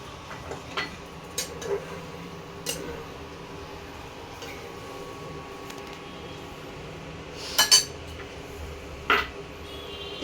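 A spice bowl rinsed in a kitchen while cooking a raw mourola fish curry, with a few sharp clinks of metal and glass dishes spaced out over a low background hum, two louder knocks near the end.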